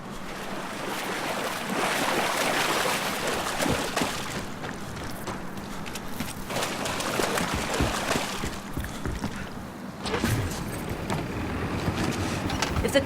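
Steady rushing of a boat cutting through water in Battlefield Hardline, with continuous splashing and engine-like hum, loud and close, no voices.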